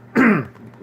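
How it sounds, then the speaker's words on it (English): One short, gruff throat clearing close to the microphone, loud and abrupt, fading quickly. "me clear my throat here."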